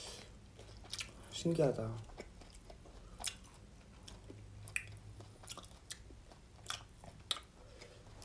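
Soft, wet chewing of grilled thin-sliced beef brisket, faint and close, comes in scattered bites while people talk.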